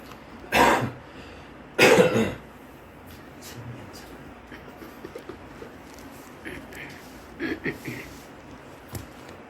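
Two sharp coughs close together near the start, followed by quiet room noise with faint, scattered small sounds.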